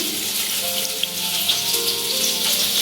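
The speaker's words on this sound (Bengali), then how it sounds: "ভেজে রাখা পনিরটার মধ্যে আমি সামান্য জল দিয়ে দিচ্ছি" Fried paneer sits in a hot oily pan, giving a dense, bright sizzling hiss with faint bubbling and crackle as a little water goes in, steady and close throughout with no speech.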